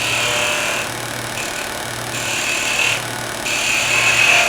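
A skew chisel makes V-cuts in wood spinning on a lathe: a steady motor hum with several short, repeated bursts of hissing cutting, close and fairly loud.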